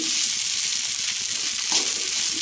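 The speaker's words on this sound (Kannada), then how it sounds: "ತಳ ಹಿಡಿತಾ ಇರುತ್ತೆ ನೋಡ್ಕೊಂಡು ನೋಡ್ಕೊಂಡು ಈ ಥರ ಫ್ರೈ ಮಾಡ್ಕೊತಾನೆ ಇರಬೇಕು" Soaked flattened rice (avalakki) frying in a pan as it catches on the bottom, with a steady, close, even sizzle throughout and no talking.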